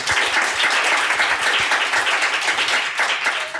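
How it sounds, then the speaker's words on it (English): Seminar audience gives a panel a round of applause: loud, close, continuous clapping from a roomful of people, dense and sustained with no one speaking over it. "So let's give them a round of applause."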